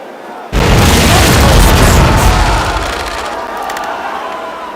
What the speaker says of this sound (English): Fire starboard cannons.